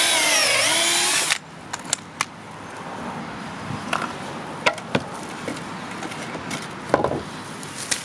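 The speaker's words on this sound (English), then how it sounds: "We also need to attach pocket screws to this. Let's go ahead and drill them." A power drill whines loudly for about a second drilling pocket screw holes in construction lumber, then cuts off, followed by scattered knocks and clatters of work nearby.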